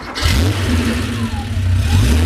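A 1970 Porsche 911T outlaw build with dual exhaust cranks and catches, then settles into a loud, close engine that is revved up and down in smooth, rumbling surges, with no one speaking.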